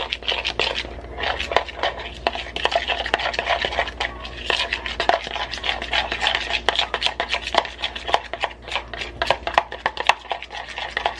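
Egg yolks being whisked briskly in a bowl for a keto raspberry lemon meringue pie, a dense run of quick, close clicking and scraping strokes that keeps a steady rhythm throughout.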